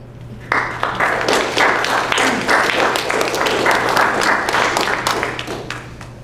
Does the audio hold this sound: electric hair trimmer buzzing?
no